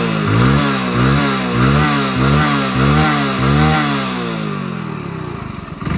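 Hero Splendor Plus BS6 motorcycle running after a carburetor fitting, the engine revving in a steady series of repeated throttle blips close by, then settling to a lower idle.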